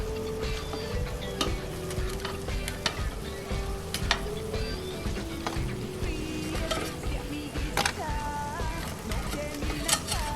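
Oil sizzles and crackles steadily as food deep-fries in a pot, with occasional sharp clinks and scraping of utensils against metal.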